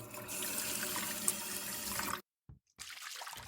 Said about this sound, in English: He went straight into the bathroom from his room and splashed water into his face.